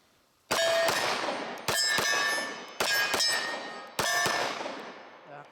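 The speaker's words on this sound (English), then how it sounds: "Dan Wesson magazine, 8 rounds. Again, we're gonna do some double taps and interchanging between the targets." A Dan Wesson 1911 pistol fires four quick pairs of shots, each pair a sharp, loud crack followed almost at once by a second, with ringing metallic echoes at an outdoor range.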